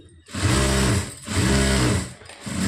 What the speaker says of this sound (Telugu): అక్కడ కూడా మనం చిన్నది పాదం వరుసలో ఇంకొక స్టిచ్ వేసేసుకోవాలి